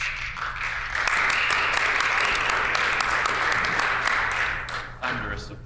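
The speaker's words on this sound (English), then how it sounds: "Thunderous applause. Thunderous indeed." Applause fills a legislative assembly chamber during a house session, a sustained wash of clapping from many members that swells, holds for several seconds and then fades out, with voices underneath.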